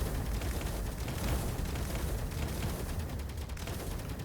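Dense, continuous turret gunfire from Space Engineers, a steady loud rattle of rapid shots and blasts that fills the whole stretch without a break.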